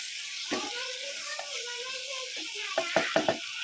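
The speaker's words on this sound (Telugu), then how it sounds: "ఇప్పుడు టమాటాలు కూడా వేస్తున్నాం కొన్ని టమాటాలు టమాటాలు వేసి ఇదంతా కలుపుకోవాలి" Tomatoes being stirred into a pan for Telugu egg pulusu give a steady frying hiss, with a voice talking over it and a few short bursts near the end.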